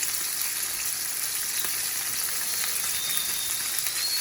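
Red snapper sizzling in a hot pan, a steady close crackle and hiss of frying with no talking over it.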